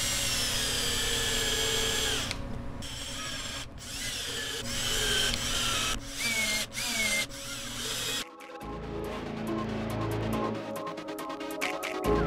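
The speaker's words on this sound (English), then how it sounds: "Just gotta start running screws." A power drill runs screws into a tire to make studded tires for a Yamaha Raptor 700 ATV, whirring loudly and almost continuously with a few short pauses between screws.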